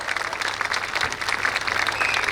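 Crowd at a public gathering gives a speaker a warm welcome with loud, continuous applause; a thick, even patter of many hands carries on without a break.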